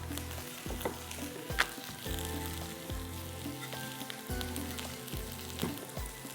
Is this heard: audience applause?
no